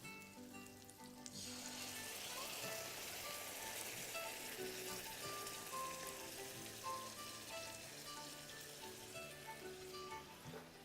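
Crushed tomatoes, about 28 ounces from a can or box, hit a hot pan with meatballs and break into a loud burst of sizzling, which then keeps up as a dense, steady crackle with no talking.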